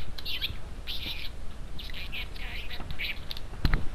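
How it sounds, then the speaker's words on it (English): Bird chirps in the video game Human Fall Flat: a series of short, bright tweets in quick bursts, fairly clear over a quiet background with faint murmuring. "Bird."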